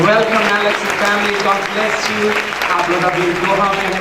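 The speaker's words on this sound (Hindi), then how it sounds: "बढ़िया तालियों के साथ उनको स्वागत करें।" Applause from a church congregation at a Pentecostal Sunday service in Udaipur, Rajasthan: steady, dense clapping from a crowd sustained throughout, with someone speaking loudly over it.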